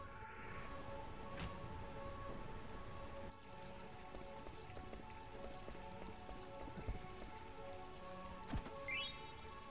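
Steady rain pours in the rain-soaked city of Burmecia in the Final Fantasy IX video game, a soft constant hiss of drops on surfaces with faint game tones and a few brief chimes.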